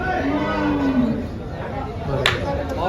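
A cow lets out a long, close moo over the murmur of a crowded HF and Jersey cattle market in Dhule, with people chattering in the background.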